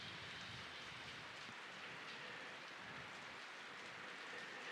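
Steady rain falls on the island of Kauai, a dense, even hiss of drops that carries on without a break through the whole stretch, with no voices.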